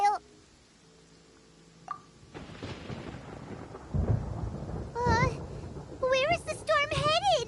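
Thunder rumbles in a Genshin Impact game scene, a deep rolling boom building from quiet and swelling loud, mixed with game effects and a high, animated character voice talking over it.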